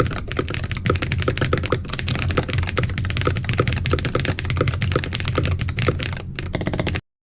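Fast, continuous typing on a computer keyboard, with dense, crisp key clacks heard up close and alone, then an abrupt stop.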